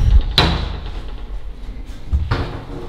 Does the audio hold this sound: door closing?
yes